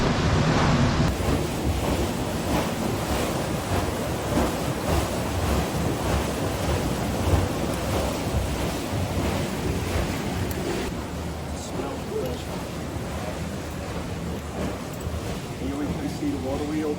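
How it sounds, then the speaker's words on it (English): An old mill's water wheel turns in the water by a centuries-old mill in Maastricht, giving a steady, loud broadband rush of water mixed with wind buffeting on the microphone throughout. "See the water wheel."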